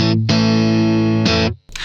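An overdriven electric guitar through a Boss GX-100 processor's tweed combo amp model plays a few sustained, buzzing chords, each ringing out before a brief pause.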